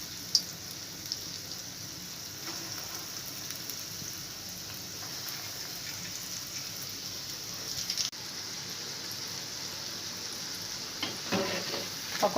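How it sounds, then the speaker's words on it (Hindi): Dahi vada batter balls fry in hot oil with a steady, faint, continuous sizzle that runs throughout, with no talking. "पकौड़े अच्छे से फ्राई हो चुके हैं।"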